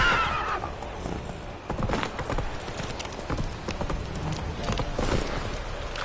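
A horse gallops in The Witcher III video game, with rapid rhythmic hoofbeats, a whinny near the start, and a steady loud pounding throughout.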